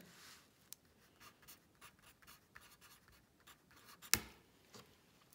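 A pen or pencil scratches out a math answer in quick, soft strokes and taps, faint and close, with one sharper tap near the end.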